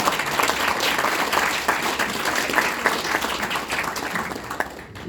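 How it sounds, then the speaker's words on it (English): An audience applauds a speaker at a talk on STEM in Australia, with sustained, dense clapping throughout that thins slightly at the very end. "Big round of applause."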